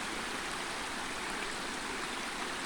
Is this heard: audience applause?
no